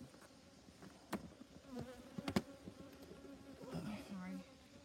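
Honey bees around a beehive hum in a faint, wavering drone, with occasional sharp clicks and handling knocks and a murmur of voices.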